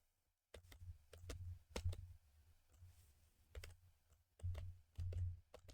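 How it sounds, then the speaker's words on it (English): Keyboard keys are pressed in quick rhythmic bursts during a rhythm game played on an emulator, with close, soft clicking taps in uneven clusters and short pauses, with no talk. "can you hear my keyboard inputs?"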